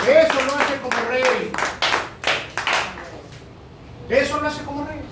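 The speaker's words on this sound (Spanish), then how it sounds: "Denle un aplauso al Rey de Reyes." Scattered hand claps from a church congregation at a gospel lesson in Jaruco, Cuba, irregular and fairly close, mixed with voices talking and calling out over the clapping.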